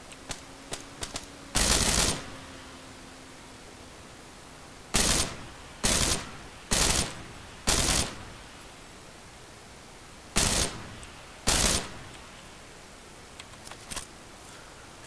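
Gunfire in burst mode in PUBG, several loud, separate short bursts of rapid shots spaced a second or more apart, with faint quieter pops and clicks between them.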